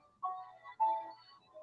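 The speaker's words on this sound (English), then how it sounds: "I hear music." Music playing faintly through a participant's phone during an online open-mic call, a couple of short melodic phrases with a thin, distant quality and no voices over it.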